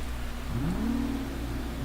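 A car in the Fortnite video game passes close behind, its engine whine sweeping upward and then holding steady over a constant low rumble, with no talking.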